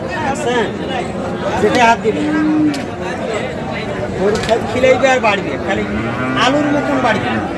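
Cattle moo loudly several times at a livestock market, amid a busy crowd of people chattering and talking nearby.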